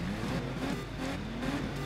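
Truck engine in the racing video game Dirt 3 revs steadily at high pitch, a continuous droning roar with rising and falling tone, close and alone without talk.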